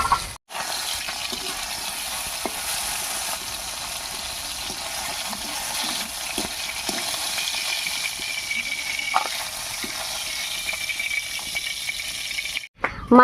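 Fresh tangra fish frying lightly in hot oil, a steady broadband sizzle that runs almost unbroken at close range, with a few faint clicks and short gaps.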